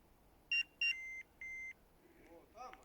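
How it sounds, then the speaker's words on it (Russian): A car parked in a forest beeps as it is unlocked with the remote: two short chirps, then two longer steady beeps, fairly faint and distant over a quiet outdoor background. "Ты слышал, где машина пикнула?"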